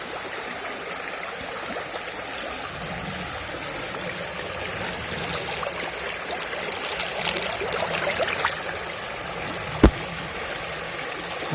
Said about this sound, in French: Qu'est-ce que c'est agréable un cours d'eau, le bruit de l'eau comme ça.